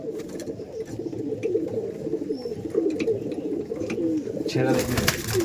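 Several Madrasi pigeons coo continuously nearby, a low throaty rolling murmur running under someone talking, with a brief rustle near the end.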